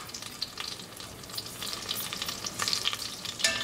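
Cumin and mustard seeds frying in hot olive oil and unsalted butter in a pan, a steady soft sizzle with scattered faint pops and crackles, no voices.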